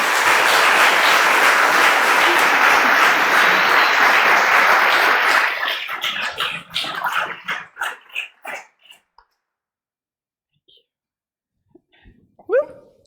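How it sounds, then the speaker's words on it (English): A live audience applauds loudly for design writer Ellen Lupton, a dense steady clatter of clapping that fades out after about six seconds into scattered claps, followed by near silence and a brief voice. "a big round of applause for Ellen"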